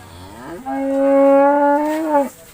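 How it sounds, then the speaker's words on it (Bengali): A single long, loud moo from nearby Indian cattle at a busy 2025 Qurbani cattle market rises, holds steady for over a second and then falls away. "এই গরুগুলো ঠান্ডা ইন্ডিয়ান গরু না খুবই ভদ্র গরু"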